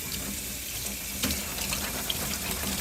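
Tap water runs steadily into a sink while an aquarium filter sponge is rinsed, a close, even gush with a few faint knocks and splashes and no talking.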